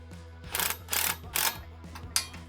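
Wrench ratcheting on mini bike riser bolts, 10 mm and 13 mm, on a Rascal Lite kit: three or four short close bursts of ratchet clicks in quick succession, moderately quiet.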